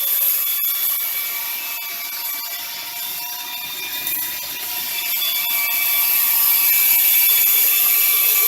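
A cleaning rod is pushed through the barrel of a Mossberg Maverick 88 shotgun, producing a long, continuous metallic scraping drag with a faint ringing squeal, close and loud, with no voices.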